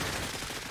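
Dense, continuous gunfire from the video game Cepheus Protocol as a growing alien pod is shot, loud and close in a short burst with no talking.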